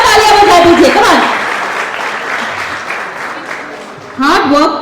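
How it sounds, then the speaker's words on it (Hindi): An audience at a smartphone launch event for the Realme 14T claps loudly at first, the applause fading into the background, then a voice speaks up again near the end. "चलिए एक और बार तालियां बजा दीजिए"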